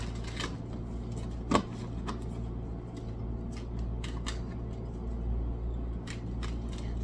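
A deck of tarot cards being shuffled by hand, a run of quick papery riffles and soft taps with one sharper snap early on, close and fairly quiet over a low steady hum.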